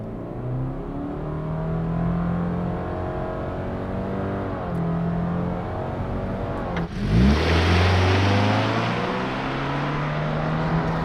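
A 2021 Subaru Crosstrek Sport with a CVT accelerates hard from a standstill without launch control, its engine drone rising steadily inside the cabin before a brief shift-like dip and renewed climb; no talking.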